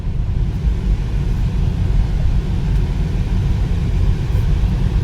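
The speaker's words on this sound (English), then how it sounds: "This is the loudest blower motor I've ever heard." A BMW 330's climate control blower motor roars on its medium setting, producing a loud, steady broadband rush of air with a low rumble underneath and no voices.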